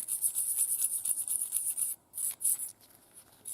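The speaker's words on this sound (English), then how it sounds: "Then I will use the nylon brush" A nylon brush scrubs a brass carburetor float: close, rapid rhythmic bristle rubbing, steady at first, then breaking into short separate strokes.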